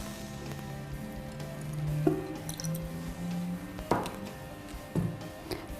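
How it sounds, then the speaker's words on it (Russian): Room-temperature water is poured over persimmon seeds, giving soft drips, splashes and wet squishes, quiet and close, with a few sharper drops standing out. "Выбранные косточки проливаем водой комнатной температуры."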